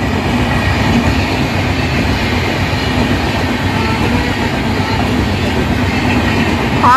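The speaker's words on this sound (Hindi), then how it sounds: "लो भी आ गई ट्रेन जम्मू तवी नंबर आई है 40 472" A long Jammu Tawi express train pulling into an Indian railway station, a steady loud rumble of wheels and rail noise that fills the whole stretch with no break.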